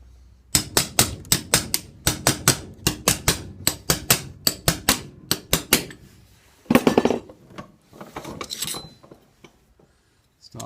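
A chisel struck repeatedly with a hammer against a BMW R80 motorcycle part: a rapid run of sharp metallic blows in steady rhythm, close and loud, then a pause and a few scraping, clattering knocks.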